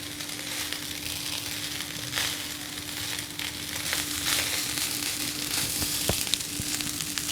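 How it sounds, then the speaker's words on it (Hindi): Chicken fried rice frying in a pan over a high flame, a steady loud sizzle with crackles and scraping stirs running throughout, no voices. "फ्लेम को हाई रख के इस तरह से हम 2 से 3 मिनट राइस को फ्राई करते रहेंगे"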